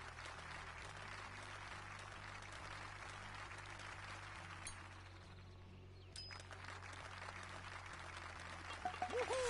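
Crowd applause from the Everybody's Golf video game, a soft, steady wash of clapping that runs through the whole stretch at low volume over a faint hum.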